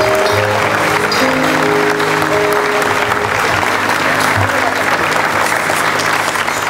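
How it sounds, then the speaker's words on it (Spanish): An audience at an event tied to the Magdalena Medio vallenato festival foundation applauds loudly and continuously, with sustained tones of music or crowd noise running beneath the clapping. "todo el aplauso que podamos darle a nosotros"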